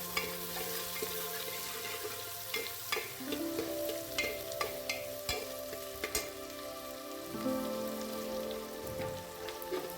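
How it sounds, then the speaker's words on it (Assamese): Vegetables for green pulao sizzle in a pressure cooker pan over medium flame while a spatula scrapes and clicks irregularly against the metal, stirring them over a steady frying crackle. "মিডিয়াম ফ্লেমতে এইখিনি মই লৰাই অকণমান টাইম ভাজি ল'লোঁ"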